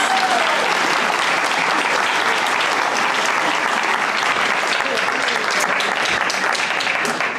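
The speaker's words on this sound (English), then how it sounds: "How about a round of applause?" Loud, continuous applause fills the room at a guide dog graduation ceremony, a thick wash of many hands clapping without pause for over seven seconds.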